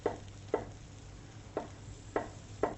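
A knife slices through peeled, seeded tomatoes on a board, giving five sharp, evenly spaced cutting taps over a low steady kitchen hum, close and fairly quiet.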